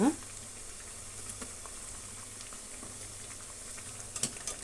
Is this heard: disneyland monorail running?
no